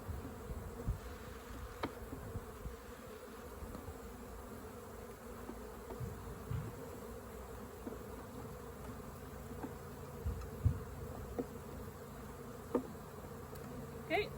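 A steady low hum of honeybees buzzing around a hive, with occasional louder insects passing close by the microphone.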